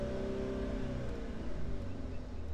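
Steady engine of a Mercedes C300 cabriolet accelerating, a continuous mid-pitched drone with rising harmonic tones held at even loudness throughout, with no voices.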